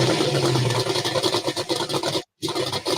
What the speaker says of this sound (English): Can you hear the tractor?